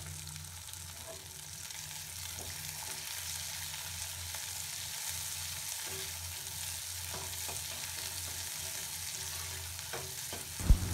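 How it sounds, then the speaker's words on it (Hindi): Chopped onions fry and are stirred in ghee with cumin, a steady close sizzle running throughout with faint spoon scrapes and a louder clatter near the end. "अब हम इसमें कटे हुए प्याज डाल देंगे और उन्हें अच्छे से मिलाएंगे।"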